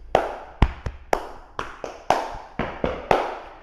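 Body percussion demonstration of single and double hand claps: about nine sharp, close claps in an uneven rhythm, some in quick pairs, ringing alone with no voices.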